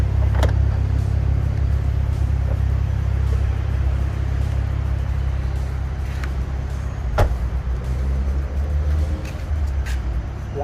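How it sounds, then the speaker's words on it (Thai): A BMW 645ci E63 coupe sits with its engine idling in a steady low hum as its trunk is released by remote key, giving a few sharp latch clicks spaced across the rumble. "เปิดท้ายนะครับ กดค้างไว้"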